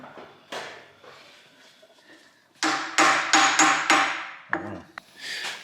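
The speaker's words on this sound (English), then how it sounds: "Now you can hit it with a hammer." A hammer strikes several times in quick succession, loud sharp metallic hits close by, after some quieter clatter.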